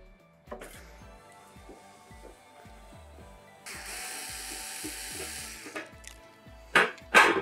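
Screws being backed out of the plastic housing of a Swardman Electra battery-powered spindle lawn mower, heard as a steady run of quiet rhythmic ratcheting clicks from a hand screwdriver, followed by a brief hiss and a few louder clattering knocks near the end.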